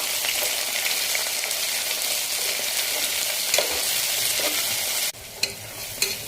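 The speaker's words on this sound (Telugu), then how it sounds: "3 ఉల్లిపాయలు సన్నగా తరిగి లైట్ బ్రౌన్ కలర్ వచ్చే వరకు వేగనివ్వాలి." Thinly sliced onions frying in a pan for a broad beans curry, a continuous close sizzle with occasional spatula scrapes and taps, steady and fairly loud, no talking.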